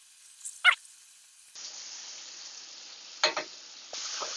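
Cubed steak frying in a pan, a faint steady sizzle punctuated by a few brief sharp pops and spatters, quiet and with no talking.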